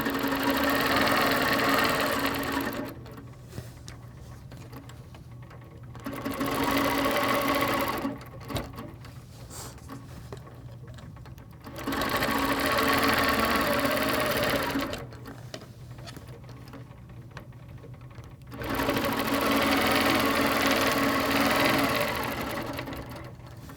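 A sewing machine quilting with rulers runs in four steady, loud, close bursts of rapid stitching, separated by short quiet pauses while the fabric and rulers are repositioned.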